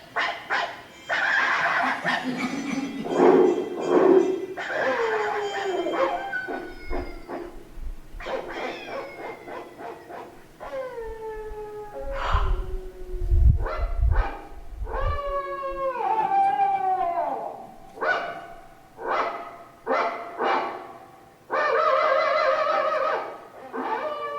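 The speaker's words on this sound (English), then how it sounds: "Now it's up to us dogs. The twilight bark." Dogs barking and howling in a relay across distances, as in an animated film's twilight bark, with varied pitched calls and yelps coming one after another over about twenty seconds, some near and loud, others fainter, with a low rumble partway through.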